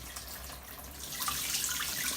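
Water pumped up from a house roof pours steadily into a garden barrel, a continuous splashing rush that grows slightly louder toward the end.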